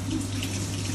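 Tap water running steadily into a sink to rinse a cauliflower, a continuous close gushing splash with a low hum underneath.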